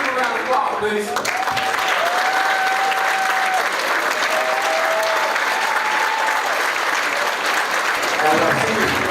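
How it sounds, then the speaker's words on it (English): Crowd applause at a high school football banquet, continuous full-room clapping throughout, with some voices and whoops woven in and a brief swell near the end. "Give a round of applause, please."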